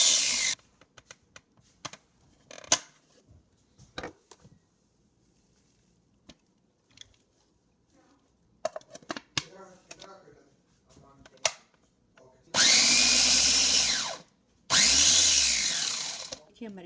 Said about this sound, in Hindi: हल्का सा अदरक और ग्रीन मिर्ची को चॉप करके फिर धनिया डालेंगे चॉप करने के लिए